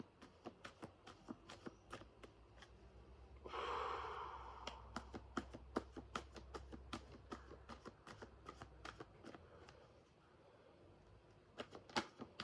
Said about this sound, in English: just shuffle the cards and tune in.